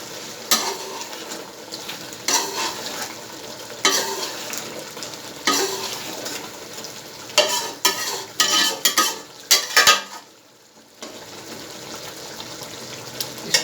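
Chicken karahi sautéing with spices in a wok over medium flame, repeated loud bursts of stirring and sizzling at a close range, spatula scrapes between them, with a brief lull near the end.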